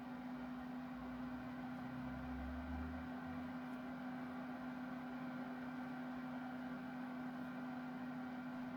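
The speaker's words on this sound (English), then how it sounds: "So let's get this projector set up and test the fan noise." Steady cooling fan whir from an Oscal PV800 Pro projector, recorded right beside its exhaust vent, a constant close drone with an even tone and no speech.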